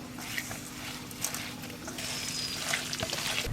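Sauces and fried onions stirred together in a pan make a soft continuous sizzle with light scraping and clinks from the spoon, close and fairly quiet.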